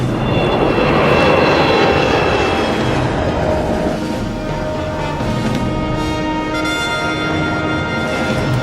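An Avro Arrow jet fighter climbs at full throttle, a loud, sustained, dense engine roar with steady whining tones that holds unbroken throughout, no voices.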